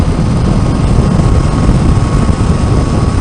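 2019 Yamaha Niken three-wheeled motorcycle engine at speed in sixth gear around 60, a loud steady smooth drone blended with rushing wind, with no voices.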